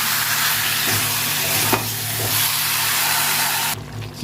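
Chicken frying in a pan with chili, cumin and spices for a Bengali chicken patla jhol, a steady close sizzle with occasional stirring scrapes, no talking.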